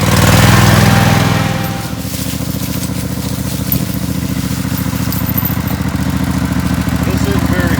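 Tractor engine straining under load as it tugs on a chain hitched low, a loud steady mechanical drone that swells early then settles into a continuous rough rumble.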